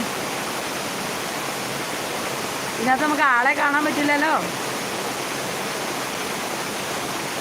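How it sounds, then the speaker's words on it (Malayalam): Extremely heavy rain pours down in a dense, unbroken roar as a person speaks briefly partway through. "ഇത് ഭയങ്കര മഴയാന്നേ ഇരുട്ടടച്ച് മഴ തുള്ളിക്ക് ഒരു കുടം പോലെയുള്ള മഴയാണ്"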